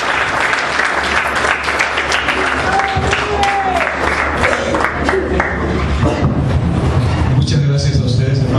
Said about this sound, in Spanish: Denle un fuerte aplauso y le dejamos saludar.